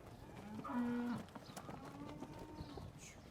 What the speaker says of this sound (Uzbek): Jonivorlar, eti zo'r ekan mollar.